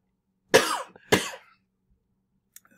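Two harsh coughs from a nearby person, a short pause between them, followed by silence and a faint tap or two near the end.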